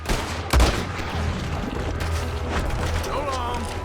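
Gunfire in Red Dead Redemption 2: a sharp, heavy shot rings out early, followed by a rumbling, crackling stretch of distant shooting and in-game commotion.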